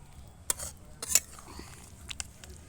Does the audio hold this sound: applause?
no